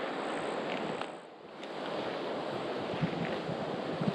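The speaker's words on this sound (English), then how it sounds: "It's definitely getting windier out here as I venture into these woods." Strong tropical storm wind roars steadily through woods near an old fishing cabin, a dense rushing noise that dips briefly and then surges back, loud and continuous, with no voices.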